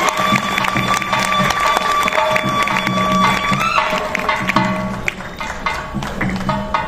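Audience clapping at a felicitation ceremony in Satara, a steady wash of applause and crowd noise that carries on under a loud announcer's voice over a PA system and gradually thins toward the end.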